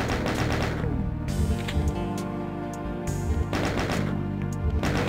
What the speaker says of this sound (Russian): Благо, что здесь есть плазменная винтовка, которая нам в этом поможет немного.